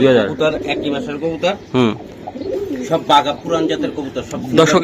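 Giribaz tumbler pigeons coo in soft, repeated throaty bursts close by, mixed with a person talking over them and some rustling movement.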